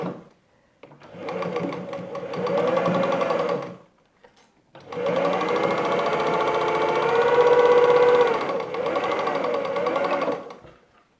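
A sewing machine stitching a patchwork block for an origami blossom quilt pattern, running in two long steady bursts with a short pause between, close and loud, with no talk.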